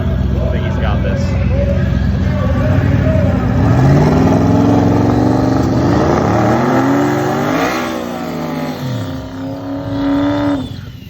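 Drag race cars, including a twin-turbo car on twin 68s, roar down the track at full throttle with rising engine pitch, loud and continuous, under a commentator's voice.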